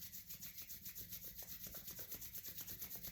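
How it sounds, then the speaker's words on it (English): Palms rubbing together briskly to build warmth during a meditation and stretch session, a soft steady swishing friction repeated in quick even strokes, close and quiet with no talking. "start to rub the hands together, looking to create some heat in between your palms"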